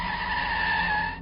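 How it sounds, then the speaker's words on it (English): Car tires screech loudly as the car pulls away from a curb, a sustained, steady squeal lasting just over a second before cutting off. "ran out of the house to his car and pulled away from the curb with a screech"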